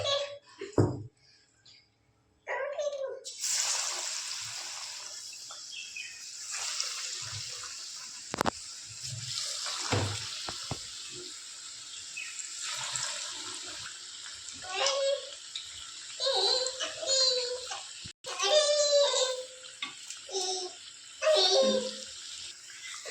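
Vada pav vadas, potato fritters coated in batter, drop into hot oil and deep-fry with a sudden, sustained bubbling hiss that continues under intermittent talking.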